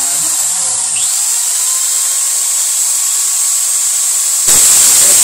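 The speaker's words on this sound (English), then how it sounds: "We're going to take and plug in our drill here." A steady high-pitched electric drill whine runs throughout as the drill polishes a valve, loud and continuous, growing harsher near the end.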